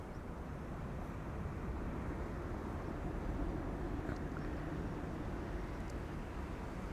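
A SunExpress Boeing 737-800 departs Schiphol with a steady, distant jet roar rumbling at a constant level throughout.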